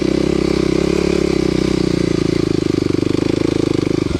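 A Kawasaki KLX250sf dirt bike fitted with a 330 engine labors up a steep hill, its single-cylinder engine pulsing loud and steady in a rapid, throbbing beat that swells slightly toward the end.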